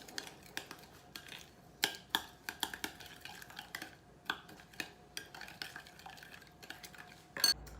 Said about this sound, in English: So we're gonna take half a cup of applesauce, 1/4 cup of brown sugar, 1 egg, and then we'll mix it well